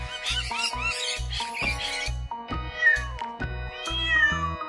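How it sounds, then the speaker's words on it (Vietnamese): A cat meows repeatedly in a rhythmic series of short, clear, close calls, with a steady thumping beat and bright chimes running underneath. "Con mèo."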